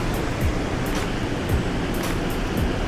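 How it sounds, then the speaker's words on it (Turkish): Small waterfall in Mostar, Bosnia and Herzegovina: steady broadband rushing and splashing of falling water, continuous and fairly loud throughout, with no voices. "Minik bir şelale."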